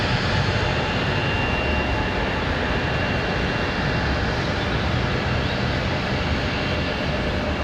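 A plane taking off from runway 23 right at Raleigh-Durham International on a windy day gives a steady, loud, broadband engine roar that holds evenly throughout with no voices.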